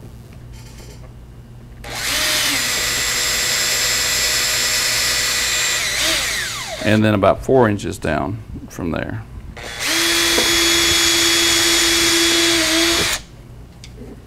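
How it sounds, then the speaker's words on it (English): A power drill bores pilot holes while building a three-string panjo, two sustained whining runs of several seconds each separated by a pause, close and loud, with someone speaking briefly between them. "is where I'm going to be drilling a couple of pilot holes again, about 2 inches down from here."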